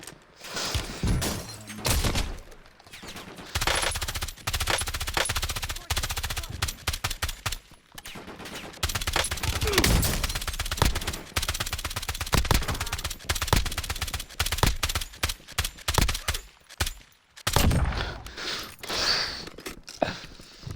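In an Overwatch custom match, dense bursts of video game gunfire and rapid mechanical weapon clatter run almost nonstop, loud and close, with short dips between volleys.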